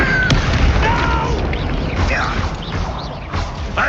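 A loud, rumbling explosion from a Bombarda spell in the wizarding game Hogwarts Legacy, with booming bursts and crackling debris that fill the short span, mixed with game voices.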